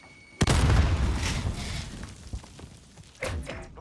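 A smoke grenade goes off in a bomb-mode shooter game, a close thumping burst followed by a broad hissing spread of smoke that fades, then a second softer thud.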